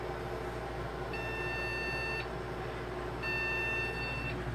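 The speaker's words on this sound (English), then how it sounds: "2 short beeps" Power Mac G5 error beep code at startup: two sustained high-pitched tones separated by a pause, over a constant fan hum.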